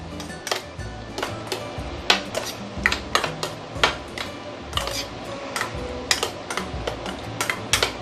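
Sambal and oil stirred together in a pan for prawn mee, a utensil clinking and scraping against the metal in quick irregular taps, close and fairly steady throughout.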